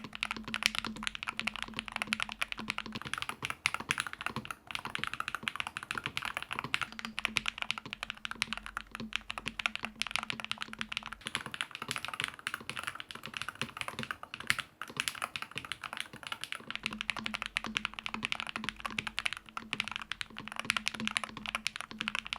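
Steady typing on a Halo65 HE gaming keyboard with Hall-effect switches, the keystrokes coming as a continuous, fairly quiet patter of close clicks and clacks with no voices over it.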